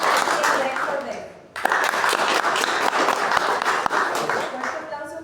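A room of attendees at a Paraguayan science-fiction book launch bursts into loud, sustained clapping after a brief lull, many hands blending into a dense wash with a few sharper claps standing out.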